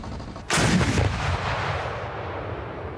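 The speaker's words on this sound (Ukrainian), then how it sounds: "гвоздика це самохідна гаубиця, яка здатна кількома залпами знищити цілу артилерійну батарею супротивника" A 2S1 Gvozdika self-propelled howitzer fires one loud, booming shot that rolls off into a long fading rumble, heard over steady background noise with no talk.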